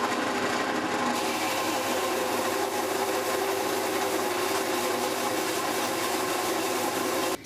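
Wood pieces for a mill cabinet are sanded flat, a continuous abrasive rasping and rubbing that stays close and steady before stopping abruptly at the end.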